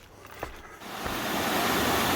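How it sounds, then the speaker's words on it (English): Small waterfalls at Kent Pond in Vermont pour steadily, a broad rushing wash of water that swells in from near silence after a couple of soft footsteps and holds loud and close. "Neat little waterfalls here at Kent Pond."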